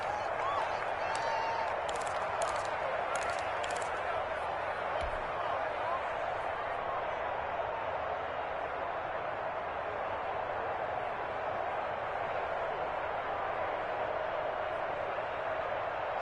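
A stadium crowd in an American football video game gives a steady, broad roar as a big third down nears, with a commentator's voice over it.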